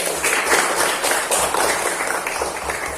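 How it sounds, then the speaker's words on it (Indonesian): Classroom applause for a student after a group solved the first problem: a steady patter of many hands clapping at moderate loudness, continuing evenly for a few seconds without talk. "Oke, tepuk tangan untuk Mas Aafari"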